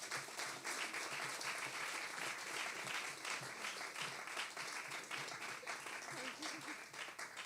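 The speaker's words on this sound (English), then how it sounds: "I would really like to ask from you a double round of applause for Ayushi Kapoor." An audience applauds at a closing ceremony, with sustained, even clapping from many hands. A voice speaks faintly underneath the clapping.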